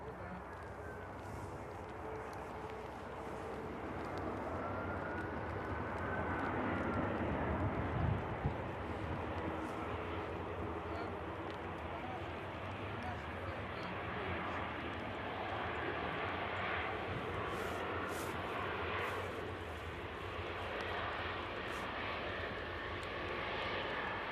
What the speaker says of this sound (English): EasyJet touching down now.